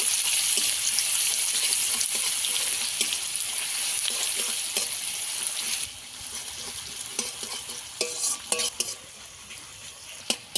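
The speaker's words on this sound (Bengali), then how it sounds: "কেটে রাখা পেঁয়াজ দিয়ে দেব হালকা আছে ভালো করে ভেজে নেব" Chopped onions frying in a pan for a Bengali curd fish curry, a loud dense sizzle that eases partway through, then sharper spatula scrapes and clinks close up, with no voices.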